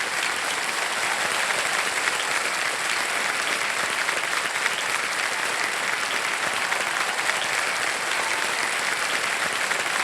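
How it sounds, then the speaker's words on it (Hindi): Studio audience applause on the quiz show Kaun Banega Crorepati as a contestant wins a prize: dense, loud, sustained clapping from a large crowd, steady and unbroken for ten seconds with no voices over it. "तालियां बजती रहे"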